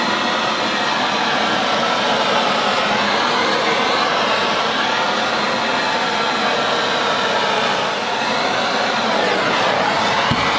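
Steady, loud roaring hiss of a torch heating a Ruger 44 carbine barrel for rust bluing, an unbroken wash of noise with no talk.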